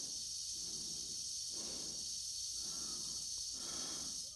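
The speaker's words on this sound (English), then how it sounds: "so that hissing sound is from his breathing apparatus" An astronaut's breathing apparatus in 2001: A Space Odyssey makes a steady, faint hiss while slow inhale-exhale breaths rise and fall in a regular rhythm, roughly four cycles, with no talk over it.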